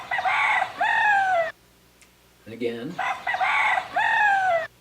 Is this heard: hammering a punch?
no